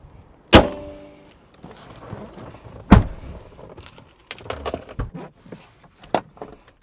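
A chrome-finished Mahindra XUV500 car key jangles close by in a few short metallic bursts, and a couple of sharper knocks and rustles come in between.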